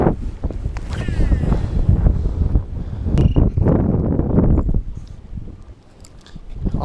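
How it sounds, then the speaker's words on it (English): Strong wind buffets the microphone beside a pond in late winter, a loud, rough, continuous roar with gusty swells. "So we're gonna keep braving this wind"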